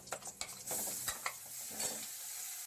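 Whole spices, bay leaf, dried chillies and panch phoron frying and being stirred in a pan for a cauliflower curry, a steady close sizzle broken by repeated scraping strokes of a spoon, with no talk.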